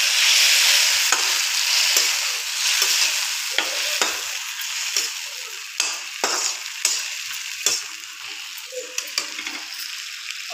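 Tomatoes hit a pan of fried green chillies, with a loud broad sizzle and repeated scraping stirs of a spoon, close up and with no talk.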